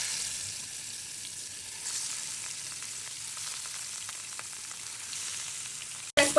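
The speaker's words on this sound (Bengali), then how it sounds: "মাছটা এখন ভেজে নেই।" Fish frying in hot oil in a home kitchen gives a steady, close sizzle on its own, with a sharp clatter right at the end.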